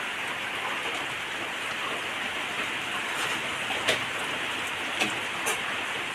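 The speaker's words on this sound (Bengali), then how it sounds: "বৃষ্টি পড়ছে বৃষ্টি পড়ছে বৃষ্টি পড়ছে" Rain falls outside, a steady, fairly soft hiss of drops on surfaces, with a few brief sharper drips near the end and no talking.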